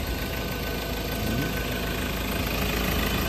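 A 2017 Ford Ranger Wildtrak 4x2 automatic with 62,000 km on it idles in the engine bay, giving a steady, dense, close-up rumble and hiss that stays constant throughout with no voices.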